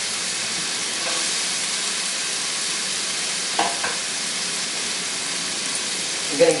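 Pancetta browns in a pan with a steady, loud sizzle and hiss, broken by a few faint stirring knocks and clinks near the end.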